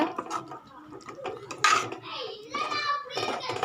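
Clinking and scraping of a utensil stirring salna inside a metal pot, close by, with a brief sharp clatter midway.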